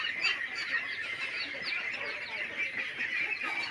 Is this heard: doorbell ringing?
no